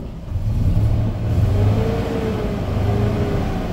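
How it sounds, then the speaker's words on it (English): 2008 Ford F-350 utility bed truck engine revving, a loud, close, deep rumble that rises and falls through a couple of throttle blips before settling back toward idle. "I'm going to rev it up for you now."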